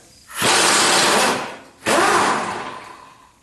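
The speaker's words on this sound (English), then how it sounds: "I have a 5/8 socket on my impact wrench, set to remove." An impact wrench fitted with a 5/8 socket rattles loudly in two sustained bursts while backing out differential bolts on a 1976 Corvette, the second burst trailing off as the bolt frees; no talking.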